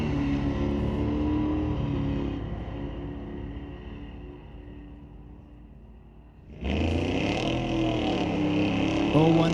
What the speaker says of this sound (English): Dale Wood out of Mission, BC, driving his 72 Nova.